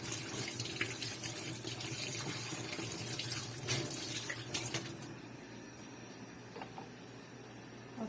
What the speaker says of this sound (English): rinse it with water.